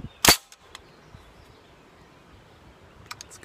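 A suppressed rifle shot from a SilencerCo suppressor on an outdoor range: one sharp, loud report near the start, then a quiet tail with faint clicks and ambient noise.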